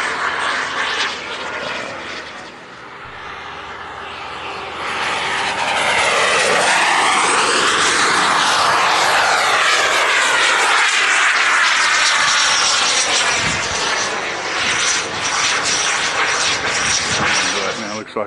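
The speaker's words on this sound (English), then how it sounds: "And here's a jet right here coming across. It's putting on a show right now." A jet aircraft roars past at an air show, swelling from a distant rumble into a loud, sweeping pass that peaks midway, then lingers as a broad, sustained roar.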